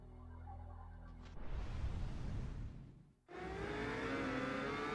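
A Triumph 955i motorcycle engine in first gear in the racing game Ride 2, revving loudly, dropping off briefly, then climbing again in a high strained whine.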